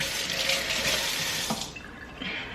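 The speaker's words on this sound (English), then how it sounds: "I'm gonna rinse my hand off." Running tap water splashes steadily over hands rinsed in a kitchen sink while cooking Jamaican jerk salmon; the flow is close and continuous, then briefly shifts at about one and a half seconds and carries on.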